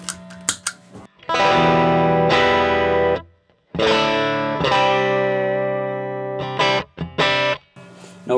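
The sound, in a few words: guitar through 1977 Fender Bassman 50, without compressor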